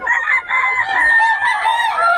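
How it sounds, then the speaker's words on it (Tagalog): Rooster crowing at a gamefowl farm, one loud, close, drawn-out cock-a-doodle-doo with a brief dip near the start and no talk over it. "Manok ni Boss Gaga"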